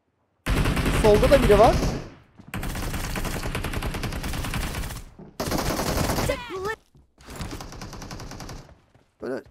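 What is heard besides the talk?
gunfire in a video game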